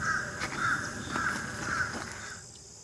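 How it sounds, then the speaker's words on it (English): A crow caws four times at an even, unhurried pace, fairly close and clear, with faint outdoor ambience behind it in central Florida. "That was a crow."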